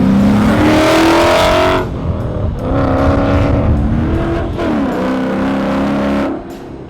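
2015 Ford Mustang GT 5.0 with an XForce Varex engine-back exhaust revving hard on a racetrack, loud rising and falling V8 engine notes through several gear changes, close and unbroken.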